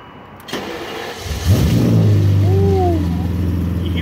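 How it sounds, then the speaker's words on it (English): A BMW V12 swapped into an E34 with a six-speed cranks on its starter for about a second, then catches and fires into a loud, close rumble that settles into a steady idle with a brief rev. "I love the V12 starter. It just takes so long to spin all those cells."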